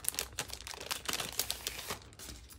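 Paper and plastic packaging from a DEKdesigns subscription craft kit crinkles and rustles close by in quick, steady handling bursts, with no talking.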